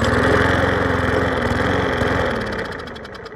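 Bolens push mower running after a carburetor clean and fresh gas, its small engine chugging loud and close in a steady, busy drone that eases off slightly toward the end, with no voices.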